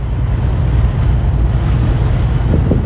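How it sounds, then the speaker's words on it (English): Steady Wyoming morning wind buffeting a microphone outdoors, a constant low rumble and roar with no pauses and no voices. "it's a windy Wyoming morning"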